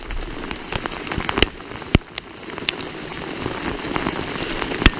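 Rain falls steadily outdoors on a fishing trip, a dense, even hiss with sharper drops tapping nearby surfaces at irregular moments.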